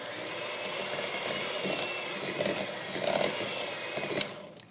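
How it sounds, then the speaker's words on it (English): Electric stand mixer running on low while mixing sugar cookie dough, a steady mechanical whir with small rattles and a few clunks, continuous and fairly quiet. "You'll notice I'm keeping my mixer on low."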